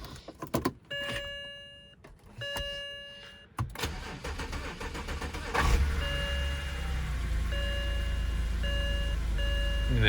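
A 2006 BMW 325i, fresh from a clutch job, cranks with a chime ringing before the engine catches and settles into a steady near idle.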